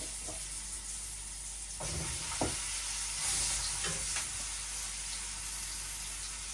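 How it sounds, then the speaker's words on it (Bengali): Potatoes and cumin seeds sizzle in hot oil in a pan, a faint, continuous frying hiss with a few soft stirring knocks and no one talking. "দিয়ে দিচ্ছি তেল আর জিরে জিরার ফোড়ন দিয়ে দিলাম এখন আলু দিয়ে দিলাম"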